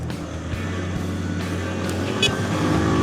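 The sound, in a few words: motorcycle engine running after being started in cold weather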